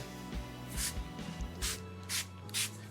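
Four short bursts from a spray bottle hiss onto a car body panel during a waterless wash, evenly spaced, close up, with faint rubbing and low handling noise between them.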